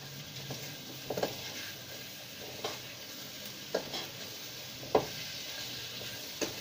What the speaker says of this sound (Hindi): अच्छे तरीके से इसको मिक्स कर लेंगे